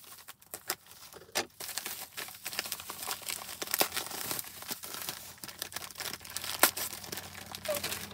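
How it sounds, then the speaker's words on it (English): Wrapped Disney merchandise being unwrapped up close, with steady crinkling and crumpling of paper and sharp tearing bursts over several seconds. "Let me unwrap these real quick"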